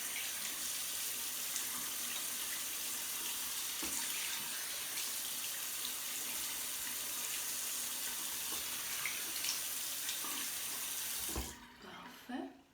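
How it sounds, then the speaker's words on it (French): Warm tap water runs steadily from a faucet into a sink as a face is rinsed, a continuous broadband splash with small surges, then it stops abruptly near the end. "je vais le rincer encore une fois avec de l'eau tiède"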